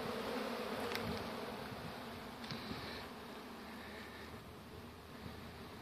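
A steady, close buzzing of many honeybees swarming on a honeycomb frame, a continuous hum with no voices.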